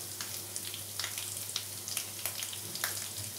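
Cashews fry in hot leftover oil for a Kashmiri dum aloo, making a steady sizzle with scattered crackles and pops. The pan sounds close, with a faint low hum in the background.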